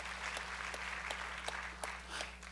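A church congregation applauds during a Korean sermon, a steady, distant wash of clapping with a few sharper hand claps standing out over a low electrical hum.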